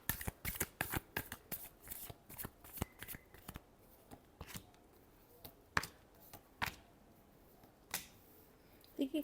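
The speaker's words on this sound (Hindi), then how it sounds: "Last shuffle." Tarot cards are shuffled by hand: a rapid run of crisp riffling slaps, then slower, separate card snaps with pauses between them, close and fairly quiet.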